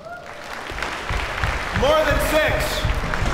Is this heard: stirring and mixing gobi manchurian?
no